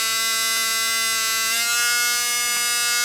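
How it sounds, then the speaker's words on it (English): A small electric motor powered by supercapacitors whirs with a steady high-pitched whine and buzz, constant and close throughout, no voices over it. "the motor is running on the same voltage that it produced"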